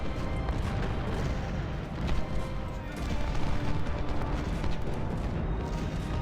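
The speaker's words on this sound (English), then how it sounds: "our skirmishers are going to get off some shots from behind them" Skirmishers fire in a Civil War battle in Ultimate General, a steady distant crackle and rumble of scattered musket shots and battle din, continuous and fairly dense, with voices heard faintly underneath.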